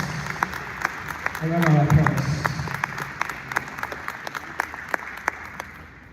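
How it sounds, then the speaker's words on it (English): Sparse, scattered claps from an audience tick along in an uneven rhythm, with a voice briefly speaking near the start over the light applause. "Let's give them a round of applause."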